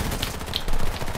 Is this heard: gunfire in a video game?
yes